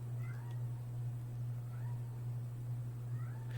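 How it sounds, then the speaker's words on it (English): A house cat meows loudly several times in quick, whiny cries, heard faintly in the background of a home podcast recording over a steady low electrical hum. "Sorry, my cat is screaming."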